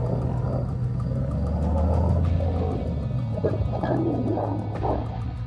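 Lions roaring and growling during a fight in the wild, deep rumbling roars and snarls layered over a low continuous drone, with harsher growling bursts in the latter half.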